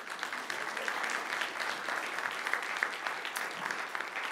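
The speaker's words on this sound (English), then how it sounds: "So a round of applause" A conference audience applauds after a talk, giving steady, dense clapping that holds at an even level for several seconds, with no voices over it.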